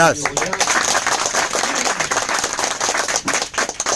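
An audience at an E Biotorium product event applauds in a dense, lively burst of clapping, with a voice briefly speaking over it at the start.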